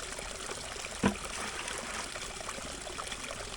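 Clear spring water trickles and dribbles steadily into a pan outdoors in rainy weather, a soft continuous wash with one brief splash or knock near the start.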